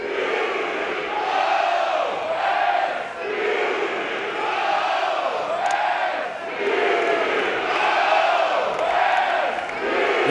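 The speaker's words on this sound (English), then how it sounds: "This crowd getting into this ball game." A packed crowd roars at an NCAA college baseball super regional game between Oregon State and Florida State, sustained loud cheering and shouting swelling in waves throughout the ballpark.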